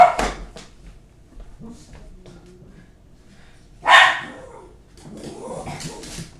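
A house dog barks at the mailman: two sharp, loud barks a few seconds apart, close to the microphone, with quiet indoor background and faint movement between them.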